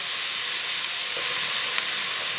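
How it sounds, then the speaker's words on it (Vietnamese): Onions stir-frying in a pan give off a steady, close sizzle with light crackle throughout, with no one speaking. "Sau đó thì cho củ hành và xào chín."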